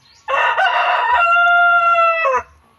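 A fighting rooster in a backyard coop crows once, loud and close, with a long, drawn-out, strongly tonal call lasting about two seconds that ends in a brief falling tail.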